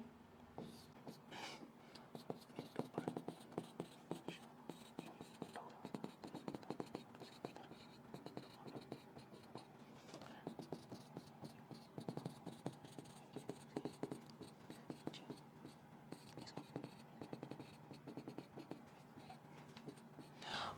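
Handwriting of chemical element symbols for f-block elements, likely a pen or marker scratching in short strokes, faint and close, heard throughout against quiet room noise.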